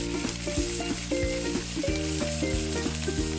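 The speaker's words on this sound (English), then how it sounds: "Fry for 3 minutes." Canned tuna and chopped boiled potatoes fry in oil with a soft, continuous sizzle. Steady melodic background music plays over it throughout.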